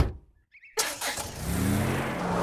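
A cartoon car's engine cranks to life after a brief hush, then revs with a steady rising drone as it pulls away, fairly loud and close, with no voices over it.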